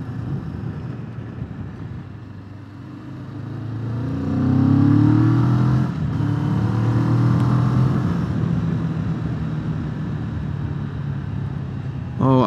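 Kawasaki Vulcan S 650 motorcycle on its stock exhaust, a steady low engine rumble that swells into a louder rev partway through and holds, close to the microphone with wind buffeting.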